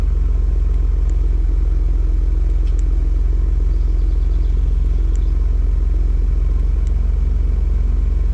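Ford Bronco with an XForce exhaust idling close by, a steady deep rumble that drones on evenly throughout, with faint clicks above it and no voices.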